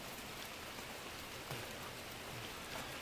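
Steady rain falls outdoors in a dense, even hiss of drops spattering on surfaces, with no talking over it.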